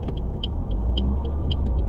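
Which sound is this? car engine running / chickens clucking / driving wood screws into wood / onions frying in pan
car engine running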